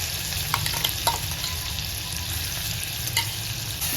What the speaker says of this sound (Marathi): जिरे टाकायचे आणि हा ठेचलेला ठेचाय आहे ना तो टाकायचा शेंगदाणे वगैरे त्याचं दोन मिनटं परतून घ्यायचा